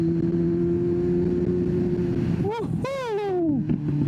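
A motorcycle engine idles with a steady low hum, then revs sharply in a couple of rising and falling bursts before settling back to idle, close and fairly loud.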